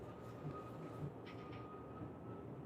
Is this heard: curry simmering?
no